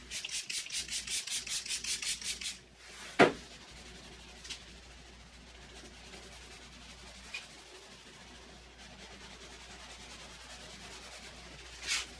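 A Meguiar's clay bar makes rhythmic rasping strokes back and forth over the paint of a Nissan 350Z, then a quieter gritty friction continues with a few sharp knocks, close and fairly faint.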